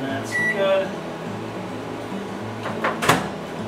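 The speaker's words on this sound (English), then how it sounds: "nuke the butter once more" A microwave oven heats butter in a home kitchen, heard as a brief run of beeps and a steady hum, then a door clunk near the end, with a person talking over it.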